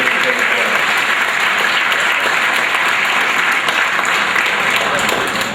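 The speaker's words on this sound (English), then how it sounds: "And a round of applause to them for coming up here on the morning." Loud, sustained applause from an audience at a senior sports banquet, a dense continuous clapping that fills the room without pause, with some voices mixed in.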